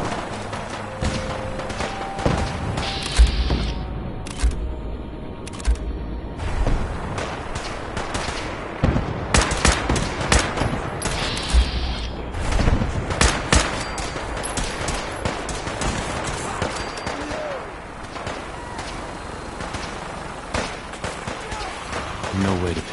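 Rapid gunfire bursts and shots from a PS4 shooter game firefight, dense and loud over a steady background for most of the stretch, with some short pauses between volleys.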